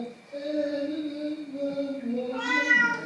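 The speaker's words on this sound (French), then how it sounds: "C'est un chat qui est pas content parce que ses croquettes," Unhappy cat meowing close by in a long, drawn-out whining cry that wavers in pitch and rises to a louder, brighter wail at the end.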